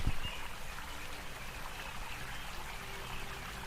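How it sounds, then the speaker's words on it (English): Steady rushing water pours continuously, a constant broadband wash like a cascade, with no voices. "there in front of you is the most amazing waterfall"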